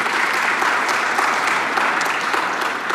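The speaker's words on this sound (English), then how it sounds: "round of applause" A sold-out room at a public discussion bursts into sustained, dense applause, a loud and even wash of clapping from many hands that carries on for the full few seconds.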